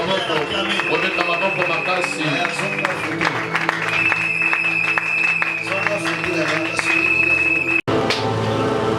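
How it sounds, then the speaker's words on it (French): A church congregation claps and cheers for a preacher, a dense, steady wash of applause and voices lasting throughout, loud and close, with a brief drop just before the end. "Est-ce qu'on peut bien l'acclamer?"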